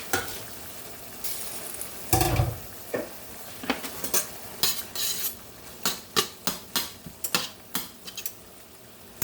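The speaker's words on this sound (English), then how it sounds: "My meat almost browned up." Ground meat browning in a pan for a poor man's stroganoff, a low sizzle under a burst of louder frying followed by a quickening series of crisp spatula scrapes and taps against the pan, close by with no talk.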